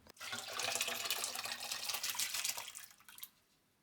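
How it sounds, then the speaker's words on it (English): Adzuki beans being gently washed in water for red bean paste, a splashing, running-water rush that swells quickly, holds for about three seconds, then trails off into quiet drips. "wash them in the water gently"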